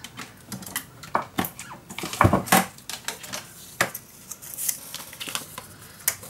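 Paper being cut for a handmade mini album, with close, irregular snips, scrapes and light taps, a few sharper clicks standing out from quieter rustling, and no talking.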